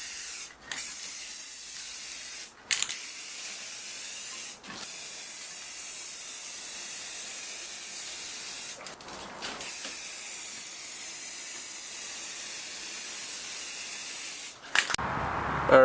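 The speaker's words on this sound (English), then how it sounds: "we're ready to apply our first really light coat of clear." A spray can lays a light coat of clear over a painted Tundra grill surround, loud steady hissing in long bursts separated by brief pauses, close and without talk.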